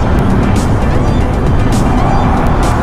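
Dense road traffic on EDSA in Manila heard from a moving motorcycle, a loud continuous roar of engines and wind with cars rumbling past close by.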